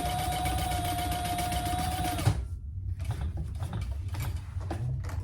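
A sewing machine stitching while a storage caddy is sewn runs at a steady, fairly loud whir for about two seconds, then stops abruptly and is followed by softer clattering and handling noises.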